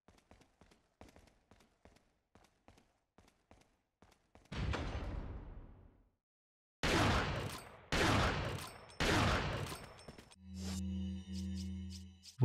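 Resident Evil 4 video game gunfire: a run of evenly spaced single shots, then a burst of heavy blasts and several loud booming volleys, ending in a sustained low droning tone, with no talking.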